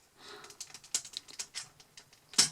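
Elbow joint of a Transformers Gears deluxe toy being bent, a quick series of small plastic clicks and ticks close up, ending in one sharper snap.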